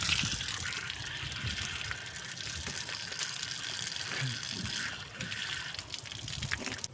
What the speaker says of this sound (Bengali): এখন আমি মুখটা ধুয়ে নেব